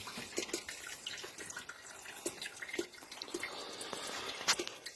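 Suspension fluid from an MGF's hydragas system drains steadily, about a litre in all, with irregular drips and trickling splashes, fairly close and faint, alone without talk.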